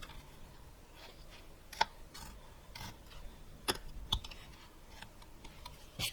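A knife carving a small wooden folk creature figure, shaving off corners: quiet, sparse scraping and sharp cutting clicks at irregular intervals, close up and faint, with no talking.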